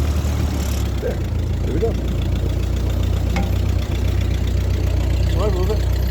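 A 1948 Ford 8N tractor engine runs in gear with a steady, close, low chugging throb, a few clunks from the controls and a short spoken remark over it.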